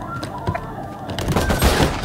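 Pistol and other gunfire in Valorant, a string of sharp shots of varying loudness that grows into denser, louder firing toward the end, with faint talk underneath.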